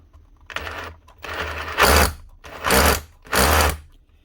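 A repaired power tool motor is test-run in a workshop, with three or four short whirring bursts separated by pauses, each rising and cutting off sharply, close and loud.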